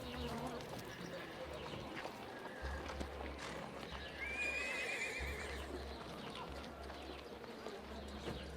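Horse in the Sherlock Holmes Versus Jack the Ripper PC game gives a short whinny, with clip-clopping hooves and a low ambient hum of the game's street scene around it, moderately loud and near.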